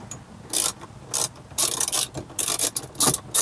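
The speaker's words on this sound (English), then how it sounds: "Then you want to take your 10mm and you want to start tightening them slowly." A 10mm ratchet tightening the mounting bolts of a Tesla Model 3/Y screen swivel mount, giving a series of short, sharp clicking bursts at an uneven rhythm, close and distinct with no voices.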